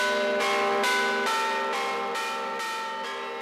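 Church bells ring out in the village of Casamaccioli, calling villagers to mass; about eight struck peals fall at a steady, even pace with long ringing overtones, loud and fairly close, no voices.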